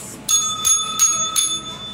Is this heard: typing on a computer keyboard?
no